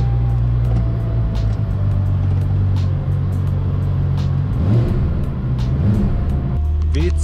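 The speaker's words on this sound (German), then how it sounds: "Das ist auf jeden Fall der Kaltstart von dem Bentley." A Bentley Continental GT Supersports with a W12 biturbo engine runs after a cold start, a steady deep idle rumble close by with a brief rise in revs partway through.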